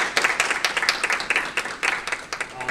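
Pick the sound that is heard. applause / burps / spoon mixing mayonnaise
applause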